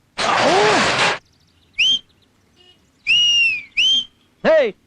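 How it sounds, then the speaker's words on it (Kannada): A person whistles in a Kannada comedy film scene: a long rising and falling whistle, followed after pauses by several short bright whistled chirps and a final quick warbling burst. "ಯಾವನ ಎಂಬ ನೋಡಿ ಸೀಟಿ ಹೊಡಿತಾ ಇರೋದು?"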